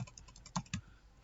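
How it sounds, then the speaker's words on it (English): Typing on a computer keyboard, a few soft separate key clicks with two sharper taps near the middle, quiet and close with no talk. "within double quotes, I am going to type"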